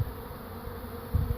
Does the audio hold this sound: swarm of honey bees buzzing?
yes